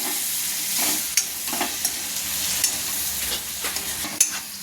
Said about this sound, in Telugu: అది ఫ్రై అయ్యేదానికి వేయించుకోవాలి